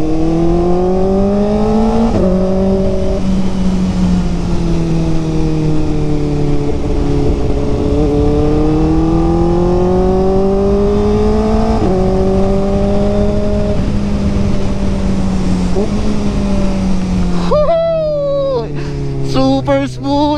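Kawasaki Ninja ZX4RR motorcycle engine on a ride near Mauban, Quezon, with a smooth high-revving wail climbing and falling through gears, loud and close, with a voice and wind noise over the last few seconds.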